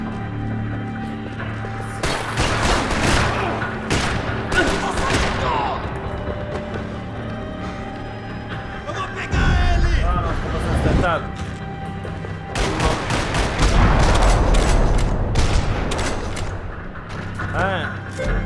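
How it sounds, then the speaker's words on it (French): Gunfire from the shooter game Max Payne 3, rapid clusters of loud shots and impacts in several bursts over the stretch, with game dialogue and a player's voice talking between and under them. "Je vais juste tirer le balle"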